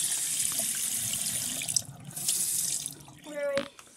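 Cold water pours in a steady rushing stream over color-changing toy trucks, running continuously for a few seconds before breaking into a brief gurgling splash near the end.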